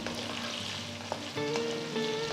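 Small onions and drumstick pieces frying in a pan on medium flame, a steady close hiss and crackle of oil with occasional light stirring sounds.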